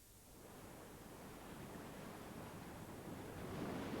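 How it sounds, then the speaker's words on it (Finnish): The Matkakoski river rapids give off a continuous, broad roaring rush of churning water that swells slightly toward the end, with no voices present. "josta voi jo kuunnella Matkakosken mahtavaa jylinää"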